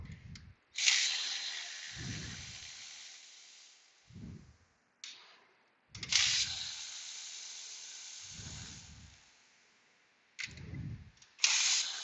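A 3/8 ratchet turning bolts on the engine of a 2005 VW Beetle during cylinder head gasket work, heard as repeated bursts of rapid clicking separated by pauses, with low knocks and movement between bursts, close by.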